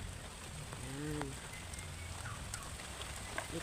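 Ducks near a patch of kangkong leaves give a few faint, distant quacking calls against a hissy outdoor background.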